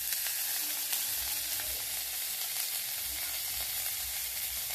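Ginger paste sizzling in hot oil with browned onions in a kadhai while cooking shrimp masala, a steady close crackling fry with faint stirring knocks underneath and no talking.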